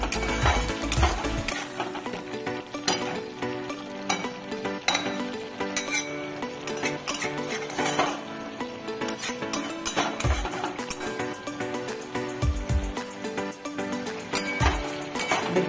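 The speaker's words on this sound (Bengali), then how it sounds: "কন্টিনিউ এরকম ভাবে নেড়ে যেতে হবে।" Repeated clinks and scrapes of a spoon against a pan as chicken marsala masala with cashews is stirred continuously, steady metallic clatter throughout with occasional heavier knocks, no speech.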